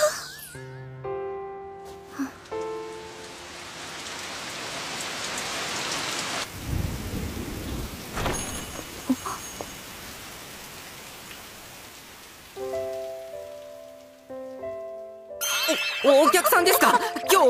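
Steady rain falls throughout with thunder rumbling in, set in a drama scene where people speak and a musical jingle plays at the start and end.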